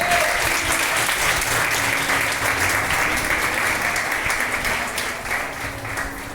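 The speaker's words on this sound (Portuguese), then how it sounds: "Queria que você aplaudisse ao Senhor por essa revelação." Steady applause from a large church congregation, continuous and fairly loud throughout, with a faint hum underneath.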